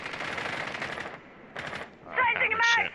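Rapid gunfire from a full magazine being emptied in the video game Rainbow Six Siege, a dense burst of shots up front, another short burst, then game effects and voices over the top.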